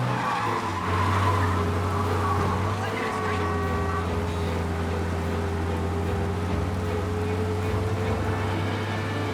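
A car speeds through a chase in Mafia: Definitive Edition, its engine droning steadily with tire squeals and tonal whines, with people talking over it.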